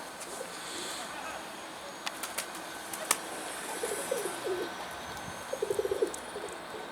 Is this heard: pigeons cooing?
yes